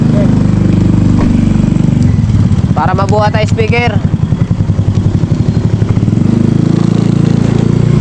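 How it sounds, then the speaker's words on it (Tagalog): A motorcycle engine idles loudly and steadily as the motorcycle is moved inside, its rumble continuing while someone speaks briefly over it. "Papasok ko na yung motor dito."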